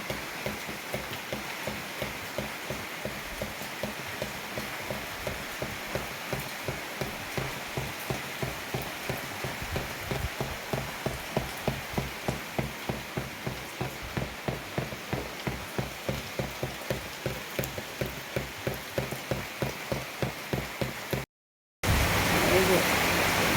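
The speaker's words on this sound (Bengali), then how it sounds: "টিনের চালে বৃষ্টির ঝুমুর ঝুমুর শব্দ শোনা যাইতেছে" Dense, steady rain drums on a tin roof at night, a continuous rattling patter that holds evenly throughout, broken by a brief silence near the end.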